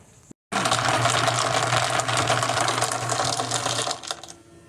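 A home-built high-capacity rock tumbler turning stones in rough grit gives a steady, dense clattering rattle that runs continuously and loud, beginning after a brief gap and easing slightly toward the end.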